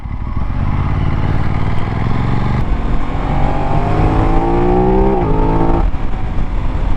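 A 2024 Aprilia RS660 Extrema motorcycle engine pulls hard, its rising roar climbing through the revs with a brief dip at a gear change, loud and close over wind noise.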